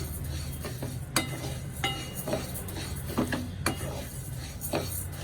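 Washed and dried rice is dry-roasted in a pan until it pops, stirred with repeated scraping and rasping strokes and occasional sharper knocks, fairly quiet and close with no talk.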